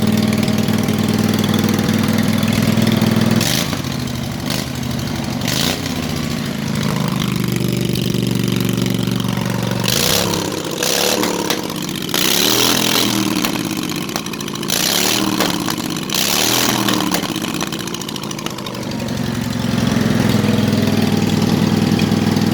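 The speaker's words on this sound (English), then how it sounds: "my ears are ringing. That thing's loud." Briggs & Stratton engine on a 20 mph racing lawnmower runs loud and close, a steady rough idle broken mid-clip by several throttle revs that rise and fall before settling back.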